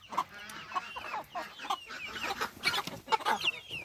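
Ameraucana chickens in a farmyard cluck and chatter, overlapping soft calls in a quick irregular rhythm, close and moderately loud with no talking.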